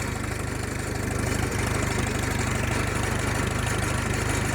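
A 1938 Farmall F-20 tractor engine runs nearby with a steady, loud chugging beat and a faint knock in the rhythm, holding constant with no voices.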